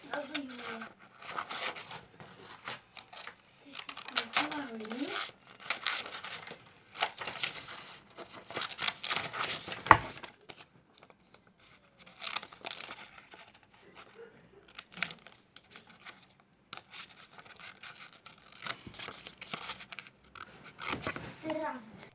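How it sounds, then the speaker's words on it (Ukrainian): Scissors cut out a paper drawing of a Joker-style character, snipping in intermittent bursts with paper rustling, close by, while a young voice talks at times. "Тепер ми це все вирізаємо. Беремо ножиці."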